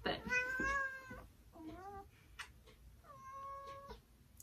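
A house cat meows several times indoors, drawn-out clear calls in three or four bursts separated by short pauses, close and moderately loud.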